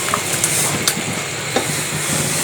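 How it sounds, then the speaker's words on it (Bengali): Spice paste frying hard in a pan for cooking bean dal, a loud, dense, continuous sizzle with a few sharp crackles and pops, close up and with nobody talking. "এখন আমি রান্না করার মশলাটা দেখি, এটা ভালো করে কষিয়ে নিয়েছি দেখুন।"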